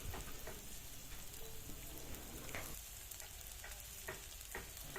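Onions fry with ginger-garlic paste in a pan for a cauliflower dish: a dense, constant sizzle and crackle with occasional stirring scrapes, steady and close, with no voices.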